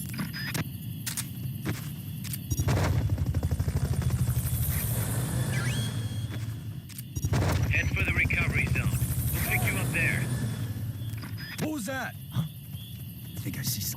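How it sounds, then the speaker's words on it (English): Fulton recovery helicopter in the Metal Gear Solid Peace Walker game, a loud, steady rotor drone that cuts out twice and resumes, with brief game effects and chirps layered over it. "Fulton recovery helicopter is complete."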